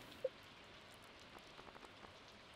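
Quiet, steady patter of rain with a few soft droplet ticks, faint and continuous, no voices.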